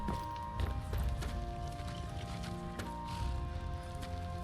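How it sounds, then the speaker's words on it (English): Horse hooves in Skyrim clip-clopping at a steady walking rhythm, a series of moderately close thuds over faint ambient game music with sustained tones underneath. "Got the fleetest steeds in all of Skyrim."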